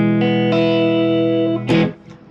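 Distorted electric guitar from an Epiphone Limited Edition Joe Bonamassa Les Paul Standard, boosted by a Toro servo pedal with Holy Grail reverb into a 2x12 cab via a power attenuator, ringing sustained bluesy chords then a brief strummed burst, loud and alone.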